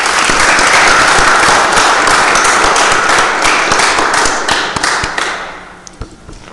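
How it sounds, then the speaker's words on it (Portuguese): A council-meeting audience applauds in salute of the national flag at the opening of a session. Loud, dense clapping begins at full strength, then thins out and fades with a few scattered final claps. "solicito a todos que saudemos o pavilhão nacional com uma salva de palmas"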